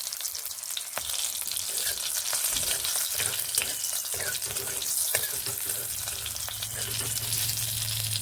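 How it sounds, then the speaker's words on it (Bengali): Green chillies and black cumin fry in hot oil in a kadai, giving a loud, continuous crackling sizzle with sharp spits and pops scattered through it. "কড়াইতে আরও একটুখানি তেল দিয়ে দুটো কাঁচা লঙ্কা ও কালো জিরে দিয়ে নিচ্ছি"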